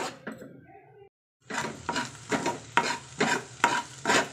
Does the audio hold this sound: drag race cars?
no